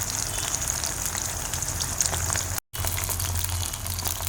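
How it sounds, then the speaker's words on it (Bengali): Chicken pakoras crackle and sizzle in hot oil as they finish frying, a steady dense spatter that drops out briefly for an instant before resuming. "পকোড়াগুলো প্রায় ভাজা হয়ে গেছে, এবার আমি তুলে নেবো"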